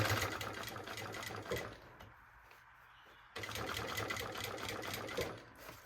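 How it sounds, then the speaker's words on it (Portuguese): A sewing machine stitches close along the edge of fabric for a maternity bag, running in a steady continuous whir that pauses briefly in the middle before starting up again. "Tá vendo que eu tô costurando bem na beiradinha?"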